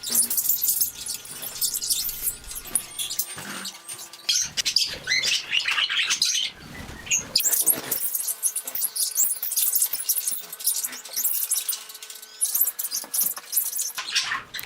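Small pet birds chirp and tweet close by in a bird room in quick, scattered bursts, with light pattering and rustling in between.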